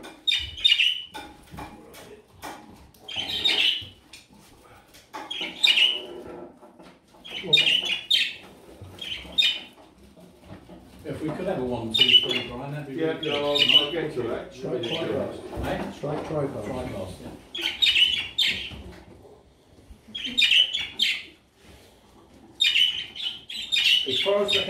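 Show pigeons in a loft give soft repeated coos and chirps, heard on and off under someone talking close by for most of the time.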